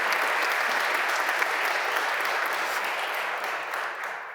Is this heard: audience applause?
yes